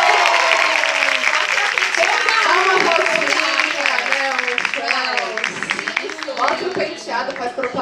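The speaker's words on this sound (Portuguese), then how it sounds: "Vamos pra votação por aplausos" Lively applause from a crowd mixes with cheering and excited voices talking over it, loud and close throughout.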